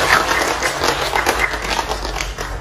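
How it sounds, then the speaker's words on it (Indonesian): A burst of steady applause from a class of students, many hands clapping together in a dense, continuous patter for the whole stretch. "kita tepuk tangan dulu sebagai apresiasi"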